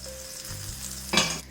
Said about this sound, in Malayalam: നമ്മളിതുപോലെ ഈ ഓരോ കുഴിയിലുള്ളിലേക്കും ഒഴിച്ചു കൊടുക്കണം